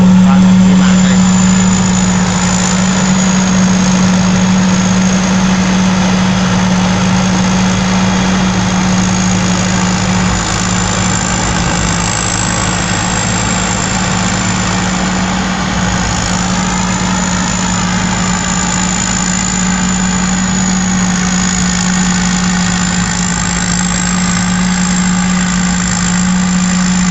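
Rice combine harvester running in a paddy field, a steady loud droning engine with a strong low hum and a faint whine above it, constant for the whole stretch.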